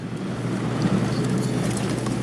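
Cold wind blows steadily through a canyon in the Slumbering Hills near Jumbo, Nevada, a constant broad rush with microphone buffeting that holds at an even level throughout.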